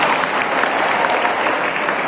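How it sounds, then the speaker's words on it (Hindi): Audience applause at a World Hindi Day poetry recitation, dense and loud clapping from many hands, a steady unbroken roar close by for the whole short stretch. "बजाओ तालियां"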